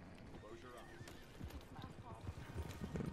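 Horse hooves clip-clop steadily in Red Dead Redemption 2 online play, mixed with game sounds and a brief whinny while voices talk over it.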